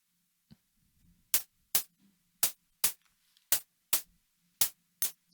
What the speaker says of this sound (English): we just hear how the hi-hat sounds